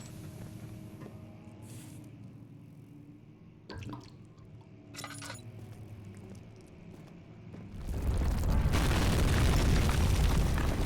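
A flashbang goes off in a video game: a sudden loud, broadband blast bursts in late and stays as a harsh, sustained roar to the end, after a quieter stretch with a few faint clicks and thuds.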